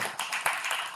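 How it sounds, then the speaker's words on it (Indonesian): A meeting audience applauds in a short, dense patter of clapping hands that rises in a few bursts over about a second. "beri tepuk tangan untuk mereka semua"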